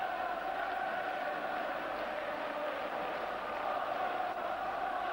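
A big Rangers football crowd roars and sings continuously inside the stadium at a European Cup night against Sparta Prague, a dense steady wall of voices with no breaks.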